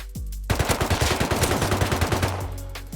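AK rifle fire in a video game, a rapid burst of about twenty close, loud automatic shots in an even rhythm, each with a heavy low thump, ending in a short fading tail.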